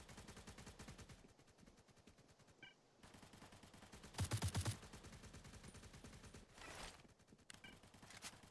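Gunshots in an online shooter video game, with rapid machine-gun bursts rattling in long strings, broken by short pauses and a louder close burst partway through, with no talk.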